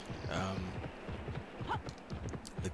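Horse hooves clopping in the Pippa Funnell Ranch Rescue video game, a steady run of soft footfalls at moderate distance under faint background sound.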